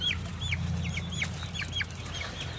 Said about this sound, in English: Chickens eating larva.